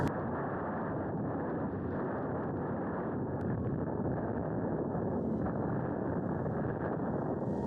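Wind blows across a model aircraft landing field in a steady, muffled rumble against the microphone, constant and broadband throughout with a few faint ticks and no voices.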